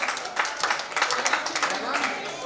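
Audience applause at a Louis Braille birth anniversary ceremony in India, continuous moderately loud clapping with uneven bursts throughout the short stretch.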